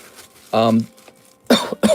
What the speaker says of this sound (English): Hold on, I have like a cough real fast.